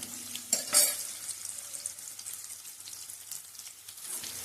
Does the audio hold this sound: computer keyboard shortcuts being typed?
no